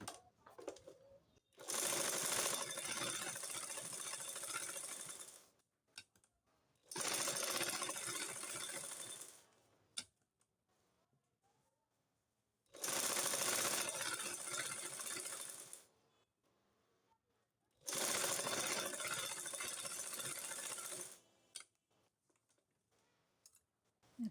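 A sewing machine stitches a pleated kuchi burqa in four sustained runs of several seconds each, separated by quiet pauses, with the clatter close and loud and no talking.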